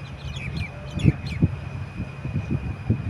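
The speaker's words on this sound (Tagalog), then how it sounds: "Madidinig nyo yung mga ibon." Birds sing high in the treetops of a park in Qatar, several high chirps and tweets up close over a low rumbling background with faint knocks.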